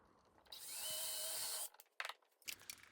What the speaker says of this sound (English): drill the holes for the handles right away